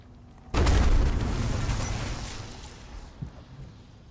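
Explosion in the Warhammer 40,000 video game Rogue Trader: after a quiet half second, one sudden loud blast that rolls on as a long, slowly fading rumble, with a smaller thud near the end.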